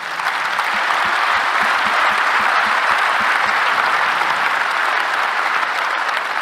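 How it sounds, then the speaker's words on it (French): Sustained audience applause filling a hall at a business conference, dense and steady throughout, with a few sharper individual claps standing out near the front and no speech over it. "vous pouvez l'applaudir"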